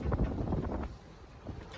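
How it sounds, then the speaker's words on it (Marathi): Strong wind blowing across a fishing boat out on the deep sea, a steady low roar of gusts buffeting the microphone, loudest at the start and easing slightly, with no voices. "हे बघा लय वारा आहे लय वारा"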